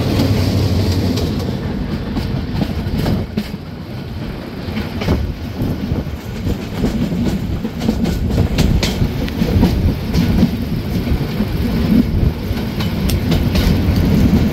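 Passenger train at a junction in Bangladesh, with a 2900-series locomotive nearby: a loud, steady rumble of rolling wheels on rails with rhythmic clickety-clack and rattling carriages, continuous throughout.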